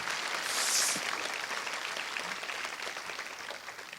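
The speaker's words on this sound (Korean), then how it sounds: "이렇게 박수도 쳐주시고 감사합니다" A church congregation claps together at a Friday prayer service, a dense, steady wash of applause that swells early and then holds evenly to the end.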